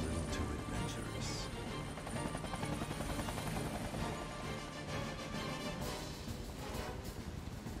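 Helicopter rotors thump steadily in the video game Final Fantasy VII Remake, a loud continuous chopping roar with metallic crashes and impacts layered over it, no voices.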